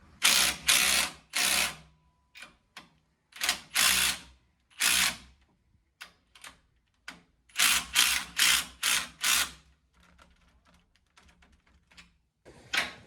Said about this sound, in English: Here we got Colin torquing down these U-bolts, and same as we put them on with the impact, kind of just alternating, trying to do it evenly